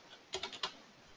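Several quick keystrokes on a computer keyboard, about four close, crisp clicks in a short burst against a quiet room, with no talking.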